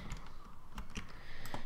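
Quick computer keyboard keystrokes tap out a short irregular run of clicks while working in Blender on a low-poly car model, close and fairly quiet, with no speech.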